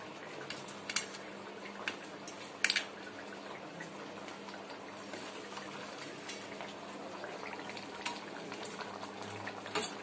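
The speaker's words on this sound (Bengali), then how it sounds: "এবার মাছগুলো দিয়ে একটুখানি ফুটুক" Fish curry with potatoes simmering in a pot, a faint, steady bubbling hiss with a few soft metallic clicks, quiet and close, no voices.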